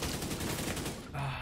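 Rapid automatic gunfire from The Division 2 video game, a dense burst of shots in a fast unbroken rhythm, loud and close, with a brief gap near the end before firing resumes.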